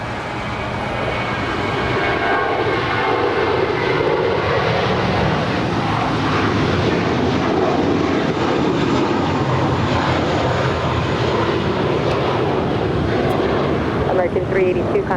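Singapore airliner rolling for takeoff on the north side of Los Angeles International Airport, a broad, steady jet engine roar building and holding at a distance.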